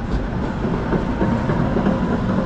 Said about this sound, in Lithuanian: Štai kokie tramvajai važinėja